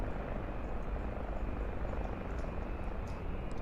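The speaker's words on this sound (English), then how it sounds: "There's a helicopter that I didn't see before." A helicopter in the X-Plane flight simulator gives a steady, continuous rotor-and-engine drone, broadband and unchanging, running alone with no talk.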